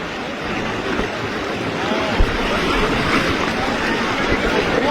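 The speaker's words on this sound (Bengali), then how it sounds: "এখানে প্রচুর প্রচুর পরিমাণে পানি স্রোত" Strong floodwater current and waves rushing around a boat, a steady loud broadband roar of churning water with wind buffeting the microphone throughout, no speech.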